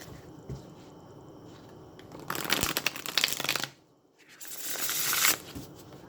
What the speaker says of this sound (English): I'm going to shuffle and pull some tarot cards.